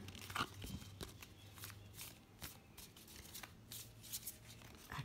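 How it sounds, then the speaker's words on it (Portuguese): Tarot cards from the major arcana being shuffled up close, a soft continuous riffling with scattered sharper slaps, fairly quiet with a low hum underneath and no talking. "Eu vou começar a embaralhar os nossos arcanos maiores"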